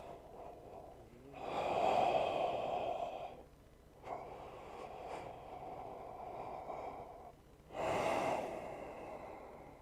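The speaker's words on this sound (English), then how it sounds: "Breathing in deeply." Deep, slow breathing during a yoga session, with three long audible breath cycles close to the microphone and no talking.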